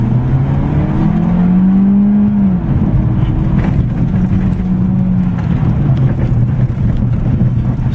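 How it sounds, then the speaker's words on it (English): A Ford Fiesta automatic revs hard at full throttle, its engine note climbing then dropping as the gearbox shifts, then rising again, loud and steady from inside the car with no talk. "Now I'll just floor the pedal for you, and you can hear the engine sound and how it performs when you press it really hard."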